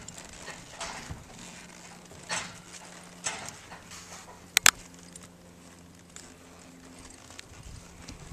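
A forward-moving horse shuffles its hooves in an arena during riding practice, soft irregular steps under faint background noise, with one sharp double knock near the middle.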